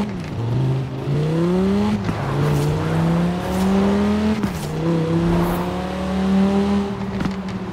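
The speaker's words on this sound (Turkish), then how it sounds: "şehirde yankı yapıyor araba" A car engine in Forza Horizon 4 revving through a city, a loud, close, droning tone that climbs through repeated gear changes and echoes off the surroundings, continuous with no talking.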